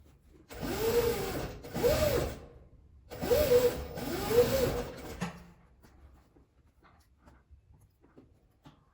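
A sewing machine stitches the fabric lining of a boxy zip pouch in two bursts of running stitches, each with a brief pause between, fairly close and loud, then stopping into near silence.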